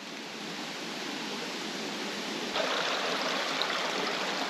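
Steady broadband rush of the Termes waterfall tumbling over piled rocks, a continuous close roar that grows slightly louder partway through, with no voices.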